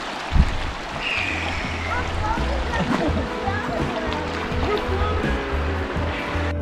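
Steady rushing and splashing of a flowing creek fills the scene continuously, with a sharp knock near the start and voices faintly mixed in; in Boone, North Carolina.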